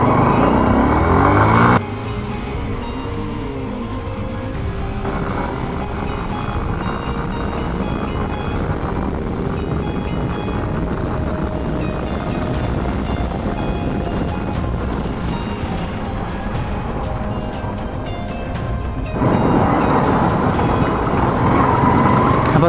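A Hero Karizma motorcycle accelerates hard from a standstill through the gears, its engine note climbing and dropping at each shift over roughly twenty seconds, loud and close with heavy wind rush and no speech.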